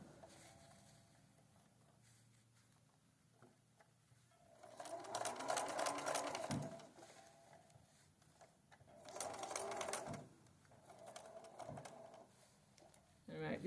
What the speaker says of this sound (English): I'm going to pull that off and sew straight off the edge.